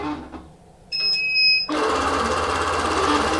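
A longarm quilting machine starts stitching a pantograph pattern across a quilt, a steady, even mechanical hum running continuously after a brief electronic beep tone.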